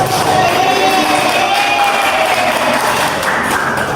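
Classmates in a classroom applauding a student's presentation, a continuous loud wash of clapping mixed with cheering and children's voices.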